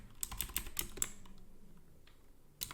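Quick clusters of crisp computer keyboard keystrokes, several rapid taps in the first second, a pause with a lone faint click, then another tap at the end, close and fairly quiet.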